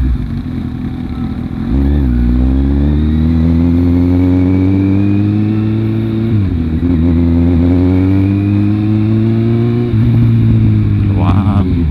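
A Kawasaki Z800 motorcycle revs up close and loud, its engine climbing in pitch, dropping back and climbing again in several pulls while riding, with a voice briefly heard beneath the engine.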